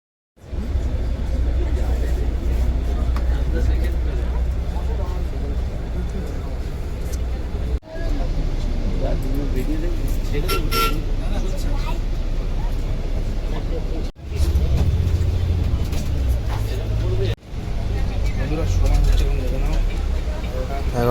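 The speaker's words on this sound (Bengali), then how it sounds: "আমাদের বাসটা ঠিক এখান থেকে ছেড়ে গেল" A Volvo bus pulling away from its depot on the Kolkata to Digha route, a steady loud engine rumble and road noise filling the clip, with a couple of brief breaks and people talking over it.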